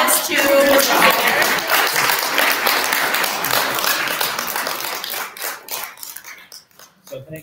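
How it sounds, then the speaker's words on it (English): A town hall meeting audience claps for a few seconds, loud and fairly close, with a dense patter that thins out and fades toward the end. "Can we give a round of applause to Mr. Taylor?"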